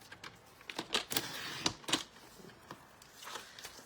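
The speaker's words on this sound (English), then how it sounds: "So I'm going to trim up that edge" Scissors trimming an edge of paper, several quick crisp snips in a close, irregular run, loud against a quiet room with no talking.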